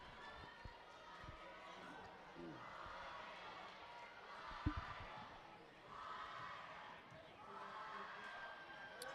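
Rowdy pep club crowd cheering and chanting in waves at a small-school area consolation basketball game, a steady far-off roar in the gym with a sharp thud partway through, under a play-by-play commentator's voice.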